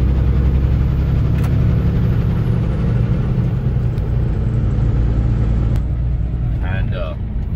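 A car's steady engine drone and low road rumble fill the cabin continuously, loud and close, while a voice talks over it.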